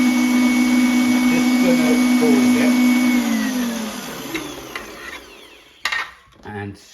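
Electric mixer beating milk into toad in the hole batter, a loud, steady close whine that winds down midway, followed by clatter against the bowl; a voice speaks briefly near the end.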